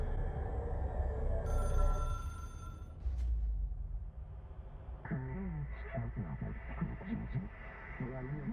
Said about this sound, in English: I'm gonna answer the phone.